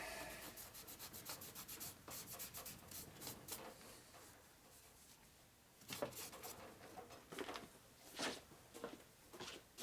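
A rag wipes brake cleaner over the case of a 1947 Harley-Davidson EL knucklehead 74ci engine. It makes close, soft rubbing strokes, quick and steady at first, then a few louder separate swipes, with no talking.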